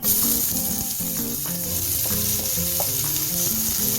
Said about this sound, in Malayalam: ഇനി അതിൽ നമ്മൾ അരിഞ്ഞു വെച്ചേക്കുന്ന സവാളയും പച്ചമുളകും കൂടെ ഇട്ട് കൊടുക്കാം